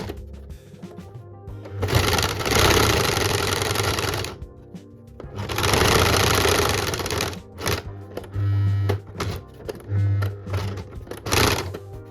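A sewing machine stitches a drawstring bag shut over a gap, running in several long bursts of steady mechanical whirring with short pauses and brief stop-start runs between them, close and fairly loud.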